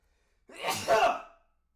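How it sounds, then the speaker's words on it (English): A single close-up sneeze, a short breathy intake bursting into a sharp, wet exhale, then silence. "Oh, I'm gonna sneeze."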